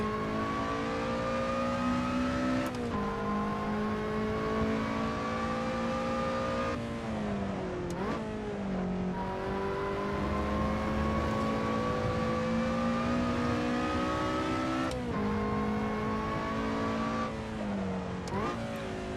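Supercharged Lotus Elise SC on a track lap, its mid-mounted engine revving hard and rising in pitch, then dropping on each gear change, heard from inside the car as a loud, continuous drone with several shift breaks.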